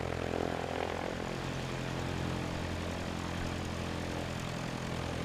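Steady propeller drone of a Piper Cub tail-dragger light aircraft in the FSX flight simulator game, a continuous engine hum with low harmonic bands holding even throughout, fairly close and alone with no talk.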